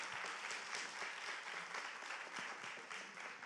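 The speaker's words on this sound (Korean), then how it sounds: "박수 주십시오." A studio audience at a talk show claps for a volunteer called to the stage, a steady, fairly quiet round of many hands applauding continuously without speech.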